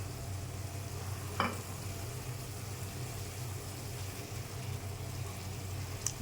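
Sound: spice paste frying in oil for fish curry

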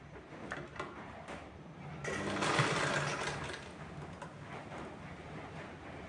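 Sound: sewing machine stitching baby shoe fabric edges

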